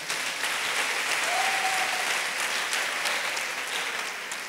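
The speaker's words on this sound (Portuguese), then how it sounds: "Dê uma salva de palmas a Ele." Church congregation applauding during a Brazilian evangelical service, a steady, moderately loud wash of clapping across the hall that holds throughout and fades slightly at the end.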